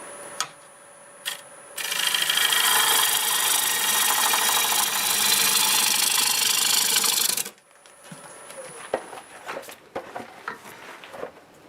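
A turning tool cuts black walnut spinning on a wood lathe, a loud sustained scraping hiss of about six seconds between quieter motor hum, with brief clicks and knocks before and after.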